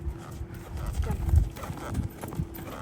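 A Tennessee Walker horse's hooves thud in an uneven canter on soft ground, close and moderately loud, with a voice speaking under the footfalls.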